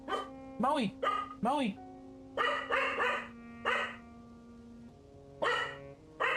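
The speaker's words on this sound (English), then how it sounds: "I just set my dog off." A dog barks repeatedly nearby in short bursts and clusters, with pauses between, over a steady low background hum.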